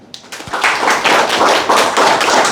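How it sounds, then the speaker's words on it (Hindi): Loud, close applause from a room of interns at a summer internship orientation session, rising quickly after a single tap into vigorous group clapping with a loose pulsing rhythm. "सो अपने लिए जोरदार तालियां।"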